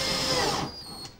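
A Trend Snappy high-speed steel drill bit bores a pilot hole in timber or plastic, a loud steady whining power-drill drone that winds down after about half a second and then stops.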